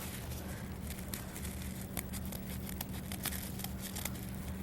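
Scissors snip through folded tissue paper at close range, with quiet crinkling and a few crisp cuts over a low background hum.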